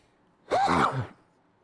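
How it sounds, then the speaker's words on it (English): A single sneeze, loud and close, with a sharp intake of breath leading into a voiced burst, then quiet. "I'm about to sneeze"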